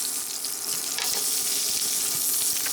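Egg frying in a small pan, a steady bright sizzle with soft crackles that holds at an even level throughout, close and continuous with no one talking.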